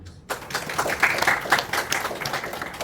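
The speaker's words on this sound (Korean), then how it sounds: "힘찬 박수 한번" A congregation claps during a church worship service, welcoming and cheering for a minister heading off on outreach, with steady broad applause filling the room after a brief quiet start and faint voices mixed in.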